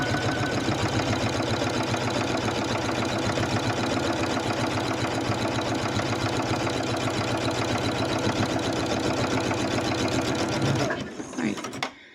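Sewing machine stitching two jelly roll rag quilt blocks together, a steady close, loud mechanical whir with rapid needle rhythm running continuously for about eleven seconds before stopping abruptly, with a voice speaking alongside.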